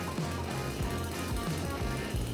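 Gasoline chainsaw engine warming up at idle, a steady, close, rattling buzz with a regular low pulsing putter throughout and no talking.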